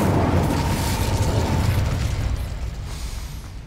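An Incendio fire spell is cast in the Hogwarts Legacy video game, a loud roaring whoosh of flame with a rumbling low end that slowly fades over a few seconds.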